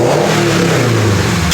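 A 2022 Subaru BRZ fitted with an aftermarket intake revs loudly and close, its engine note rising and sustaining in a throaty drone before cutting off abruptly.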